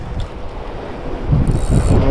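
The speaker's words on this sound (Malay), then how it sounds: "Allah, ombak kuat" Strong sea waves and wind surround a small fishing boat, a rough steady rush of water and wind buffeting that swells louder in the second half, close and continuous, with no talk.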